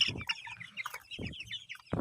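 Tiger chicken chicks, about twenty days old, chirp on a farm during weighing, quick high peeps with a few soft thumps, fairly faint and close.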